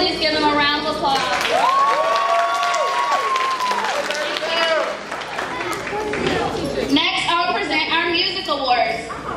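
Sustained applause from an audience at a first and second grade promotion ceremony, with cheering and whistles over it, loud and continuous for the whole stretch.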